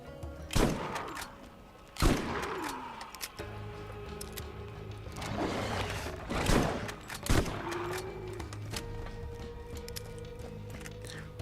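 Repeated shotgun blasts in Borderlands, fired at skags, with several loud sharp booms spaced a couple of seconds apart over a steady game background hum.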